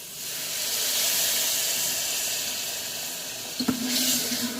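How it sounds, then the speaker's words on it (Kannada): Dal cooking water poured into a hot tempering pan, giving a steady broad hiss and sizzle throughout, with a sharper burst of splashing and bubbling near the end, fairly close and without speech. "ಈಗ ಇದನ್ನು ಫ್ರೈ ಮಾಡಿ ಈಗ ಇದಕ್ಕೆ ಬೇಳೆ ಬೇಯಿಸಿರುವಂಥ ನೀರನ್ನ ಹಾಕ್ಕೊಳ್ಳಿ"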